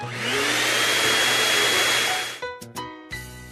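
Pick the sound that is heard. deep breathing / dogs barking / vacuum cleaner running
vacuum cleaner running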